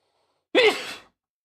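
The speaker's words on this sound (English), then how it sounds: "Every time I try to speak, I gotta sneeze." A single short, breathy vocal burst, close and sudden, rising then fading in under half a second against silence.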